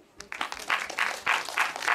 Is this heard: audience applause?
yes